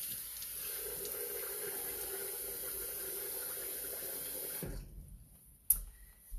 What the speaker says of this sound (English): I'm gonna add 3 cups of water